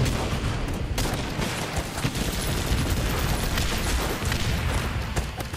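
Video game enemies open fire in a steady, dense barrage of gunshots and bursts that runs the whole time, loud and close, with no speech over it.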